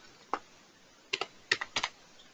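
A few brief keystrokes on a computer keyboard, close and clear, with a single tap followed by a quick cluster of clicks in a quiet room.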